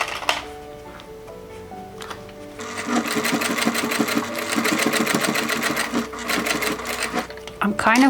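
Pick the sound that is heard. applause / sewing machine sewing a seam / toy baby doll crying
sewing machine sewing a seam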